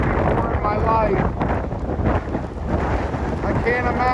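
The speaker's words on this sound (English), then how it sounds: "I think the wind is probably 50-mile-an-hour gusts" Hurricane Isaias winds gusting at about 50 miles an hour along the shore at North Wildwood, New Jersey, a loud continuous roar buffeting the microphone with surf noise underneath.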